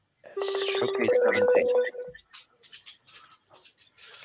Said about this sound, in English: That was the sound of the phone ringing.